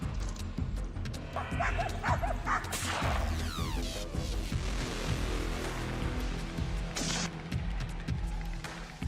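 Hunting dogs bark, yip and whimper in a steady excited chorus during a wild boar hunt, loud and close, with a sharp crack partway through.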